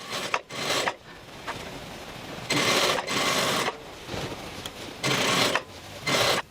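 A sewing machine stitches a dress seam at a half-inch allowance, running in loud whirring bursts of about a second each, separated by quieter pauses, close by.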